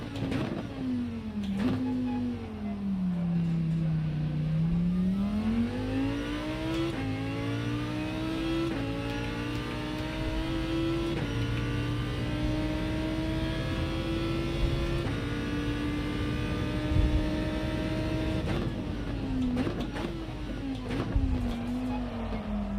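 A race car drifts on a wet track in a racing game, its engine droning steadily with the pitch sweeping up and down as it slides and revs through the corners.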